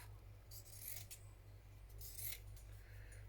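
Scissors cutting through drop cloth fabric in two short bursts of crisp snipping, close by and quiet, separated by a brief pause.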